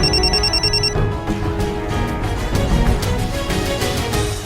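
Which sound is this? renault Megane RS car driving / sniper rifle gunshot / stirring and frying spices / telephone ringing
telephone ringing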